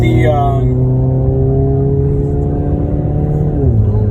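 A rare 1993 Asuna Sunfire car driving after a coolant leak repair: a loud, steady engine hum heard from inside the cabin, its pitch holding level and then dropping as the gears shift near the end.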